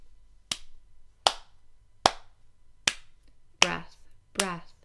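A single pair of hands claps six times at a steady, moderate pace, each clap sharp and close, demonstrating a baby's breathing rate, with faint vocal sounds blended into the last two claps.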